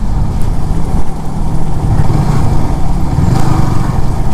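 Motorcycles from a group of ten riders travel the 33-kilometre road from Thanchi toward Tindu, their engines a loud, steady rumbling drone close by, alone without talk.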